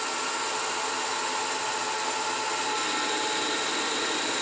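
A CNC lathe cutting a part at 600 RPM with a 25 thou depth of cut: a steady, even whir and hiss of machining holds without a break, no voices over it.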